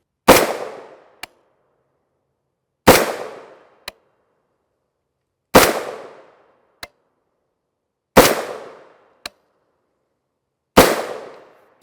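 Five subsonic 8.6 Blackout rifle shots from a 16-inch barrel, each a sharp, loud crack with a short decaying tail, spaced evenly about three seconds apart, with a faint click following each shot.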